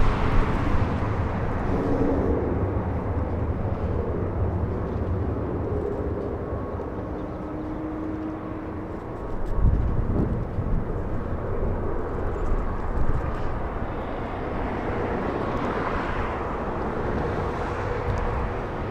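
A heavy jet airliner rolling on the runway at LAX, heard as a steady, broad engine roar from a moderate distance that swells briefly midway and holds throughout with no talk.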